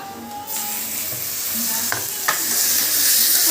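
Chicken pieces sizzle loudly in a hot pan for a home-made chicken fry, with a broad steady hiss that swells toward the end and a few sharp clinks of a spatula stirring, no talking.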